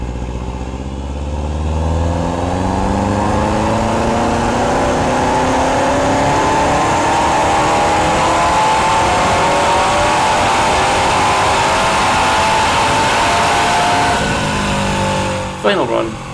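A Subaru WRX on a dyno at a tuning shop, the engine revving loud and close in one long climbing pull that rises steadily in pitch for about fourteen seconds before cutting off abruptly.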